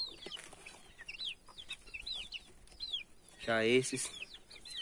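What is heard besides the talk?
chicks clucking while being fed corn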